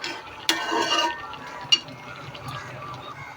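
Food fries in mustard oil while a utensil stirs it, giving a soft sizzle broken by a few sharp clinks of metal against the pan, close and without speech.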